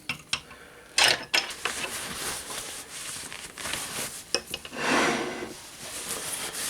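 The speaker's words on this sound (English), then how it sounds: "there's a hole in the back here with a nut in it that this spanner will fit" A spanner working a nut through a hole in the back of a homemade machine with adjustable pulleys, giving a few ratcheting, clicking mechanical bursts with brief rubs and scrapes, close and moderately quiet, with no talk.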